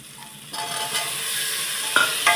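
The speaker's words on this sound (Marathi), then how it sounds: "आता आपण हे चांगले फ्राय करून घेऊया" Peeled, diced potatoes fry in a pan for moong dal khichdi, giving a steady sizzle with a few louder scrapes of stirring toward the end, close and alone.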